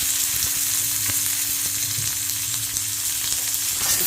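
Mustard seeds, onion and curry leaves sizzle and crackle steadily in hot oil in a pan, a close, continuous hiss with occasional stirring.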